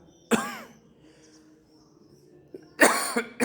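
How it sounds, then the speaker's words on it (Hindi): Two sharp coughs close to the microphone, one near the start and a rougher one near the end, with quiet room noise between them. "बड़ा खांसी आ रही क्या बात"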